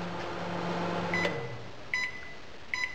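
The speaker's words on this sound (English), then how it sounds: "Now we need to know if the microwave oven works. We'll switch it on." A microwave oven hums steadily as it runs, its drone winding down, followed by three sharp electronic beeps spaced about a second apart, close and alone without talk.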